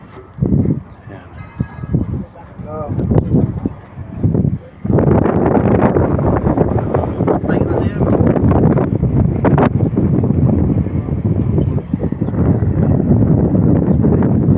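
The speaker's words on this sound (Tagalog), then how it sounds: "lakas ng ihip ng hangin." Strong wind buffets the microphone at a construction site, giving a loud, continuous roar. The gusts are broken and choppy at first, then settle into a sustained blast.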